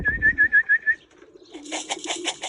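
A cock pigeon in a racing loft gives a short series of rhythmic pulsing coos, close and moderately loud, followed by softer fluttering, rustling and chirping sounds.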